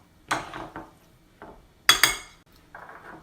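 Tuna in oil being mixed into a filling for Italian family bread rolls, with a spoon clinking and scraping against a bowl in a few separate bursts, near and fairly loud.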